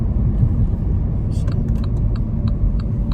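A car drives through city streets, a steady low engine and road rumble from inside the vehicle, with faint clicking ticks like a turn signal in the second half.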